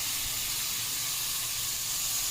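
Tomatoes for a cauliflower potato curry fry in a pan with a steady, close sizzling hiss that holds evenly throughout.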